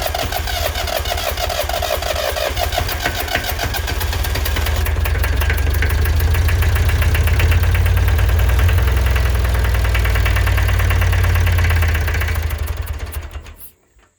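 An International Harvester B-414 tractor engine cranking over and struggling to catch, a loud, steady, rapid mechanical churn that runs for several seconds before abruptly cutting out.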